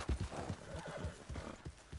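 A horse whinnies while hooves clop in quick, uneven beats nearby, with a game-like sound over them, from the video game Red Dead Redemption 2.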